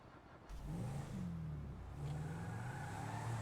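An all-wheel-drive SUV in GTA Online launches hard off the line with wheel spin, its engine note climbing steadily and rising again after a shift, close and continuous.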